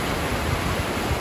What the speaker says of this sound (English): Lunch by this lovely flowing stream that's coming down from that